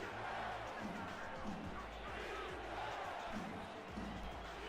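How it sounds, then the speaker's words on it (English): A football video game stadium crowd at Stallion Stadium roars steadily, a dense, sustained wash of cheering that stays loud and even throughout with faint thuds underneath. "Crowd on their feet and getting loud here at Stallion Stadium."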